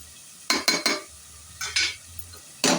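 Mutton masala and chili powder being sautéed in oil for a goat head curry, heard as bursts of spoon scraping and stirring in the pan in uneven strokes, close and fairly loud with no talk.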